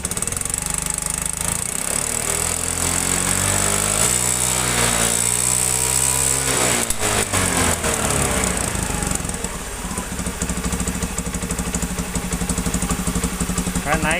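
An old Honda Beat scooter engine is revved on the throttle, a buzzing idle rising into sweeping revs that climb and fall, then settling back to a rough steady drone, loud and close with brief talk mixed in.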